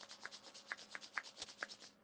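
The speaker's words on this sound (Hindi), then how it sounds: "हाथों को आपस में रब करें" Palms rub together in quick, soft swishing strokes during a morning yoga class, a close, faint, rhythmic brushing repeated about eight times in two seconds.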